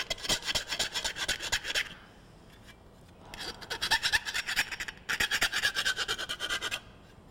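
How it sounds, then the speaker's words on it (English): A file rasps around the edge of a flanged lightening hole in sheet metal to remove the burr, three bursts of quick, rhythmic scraping strokes separated by short quiet pauses, close and fairly soft. "I'll go around the lightning hole, removing the burr."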